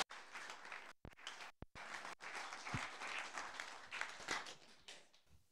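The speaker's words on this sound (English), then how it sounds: "please clap your hands as we welcome her on stage to come and perform for us" An audience claps to welcome a performer onto the stage at a talk show, a broken burst of applause with brief gaps and sharp handling knocks, fairly quiet overall.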